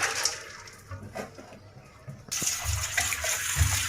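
Bean seeds being soaked: water splashes and pours over them, quiet trickling at first, then a louder steady gush that continues to the end.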